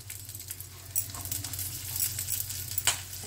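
Spinach pakoras and green chilies frying in hot oil, a steady close crackling sizzle with occasional sharper pops and spatters, running continuously.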